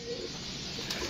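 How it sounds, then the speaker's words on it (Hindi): A pigeon settled back on its perch after being flown coos softly a few times, faint and close, over a steady low background hum. "कबूतर तो अब्दुल्ला ने जो उड़ाया बैठ गया है"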